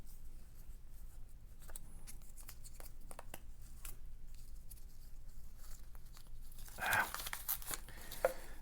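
Coin roll wrappers for half dollars being torn open by hand, with soft papery rips and crinkles throughout and a louder tearing burst near the end.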